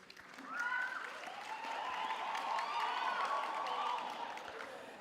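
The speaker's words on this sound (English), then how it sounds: "A round of applause for yourself to all the graduates" Crowd at a Walter Sisulu University graduation ceremony applauds the graduates, steady clapping carrying under high, sustained cheering voices that rise and hold for several seconds before tapering.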